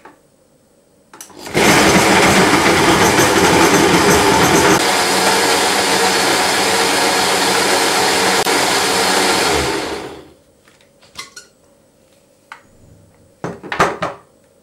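A blender whirs loudly and steadily for about eight seconds while mixing a milkshake of plombir ice cream and plum juice, then cuts off abruptly, followed by a few light clinks in a quiet kitchen.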